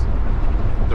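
A 33-foot RV driving down a grade, heard from inside as a steady, loud low rumble of road and engine noise with a broad hiss above it, continuous and unbroken.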